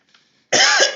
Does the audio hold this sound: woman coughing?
yes